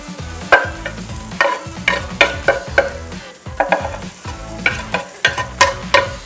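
Garlic and mushrooms sizzle in a frying pan while being stirred, a steady close frying hiss broken by repeated scraping and clattering bursts of the utensil against the pan.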